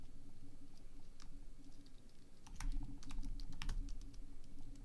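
Rapid keystrokes clatter on a computer keyboard while assembly code is entered, irregular clicks that bunch into a denser burst toward the middle, close and fairly quiet over a low room hum, with no voices.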